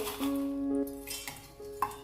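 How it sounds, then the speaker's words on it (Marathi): Fried vada crumbs and small leftover bhajis are tipped into a steel mixer jar, a brief clatter and rustle of pieces dropping against metal. A steady hum runs underneath, with no talking. "ते आता हे मिक्सरच्या भांड्यामध्ये घालायचे"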